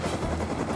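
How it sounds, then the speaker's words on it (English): A helicopter in the survival video game Rust thrums with a steady rotor chop during a brief moment, a moderately loud engine drone with no talk. "There's a chopper in E3"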